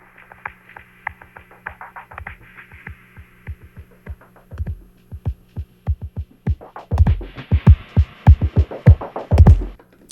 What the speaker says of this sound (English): So this is starting with the filtered source. Cutoff is going up. And then slowly the full frequency drums are going to come in.